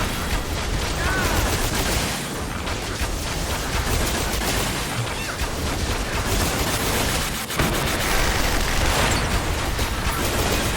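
Dense, continuous automatic gunfire and explosive booms in the Final Fantasy XIV video game, loud and unbroken for several seconds with a short dip midway.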